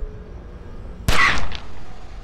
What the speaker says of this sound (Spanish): ¿Qué fue ese tiro?